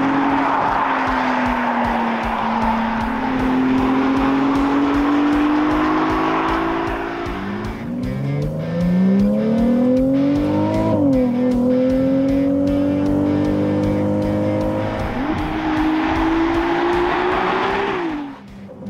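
A Ferrari 296 GTB, a plug-in hybrid V6 sports car, drives loudly and close, its engine note rising and falling through gear changes with a sustained, strong tone for the whole stretch.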